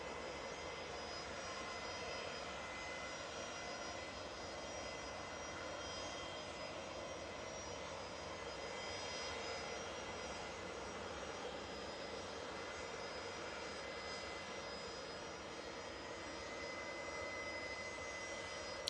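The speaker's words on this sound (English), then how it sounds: "Ryanair to go out now." A Ryanair jet departs for Brussels, its engines giving a continuous, fairly distant rumbling roar that stays level throughout with no voices.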